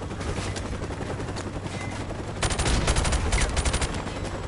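Close-quarters gunfire in a video game: steady shooting that swells into a dense, loud run of rapid shots in the second half, with no talking.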